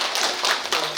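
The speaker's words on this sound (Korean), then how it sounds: "따뜻한 박수 부탁드리겠습니다." An audience at a book launch applauds, a brief, dense wash of clapping hands that fills the whole moment.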